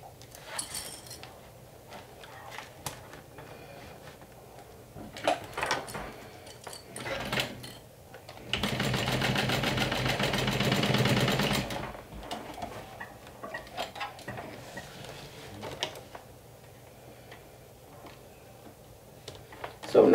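A sewing machine stitches down a strap end on a crossbody bag in one continuous run of about three seconds, set among quieter handling clicks and ticks before and after.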